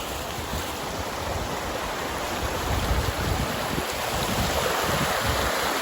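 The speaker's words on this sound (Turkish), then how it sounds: "Şelalemiz akıyor." A waterfall at a village pours steadily, a dense broadband rush of falling water that stays constant and fairly loud for the whole stretch, with no voices.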